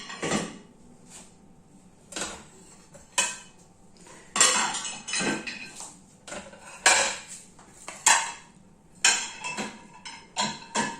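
Dishes and cutlery are loaded into a dishwasher: repeated clinks, clatters and rattles of plates and utensils set into the racks, arriving in irregular bursts with short quiet gaps.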